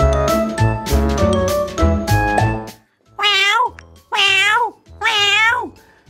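A voice imitates a cat, giving three drawn-out rising-and-falling meows, each loud and close and separated by short pauses, after a burst of bright musical tones.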